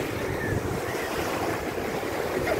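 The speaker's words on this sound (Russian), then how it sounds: "Смотрите, какое море красивое." Sea waves wash onto the shore in a steady, continuous rush of surf, with wind buffeting the microphone throughout and no voices present.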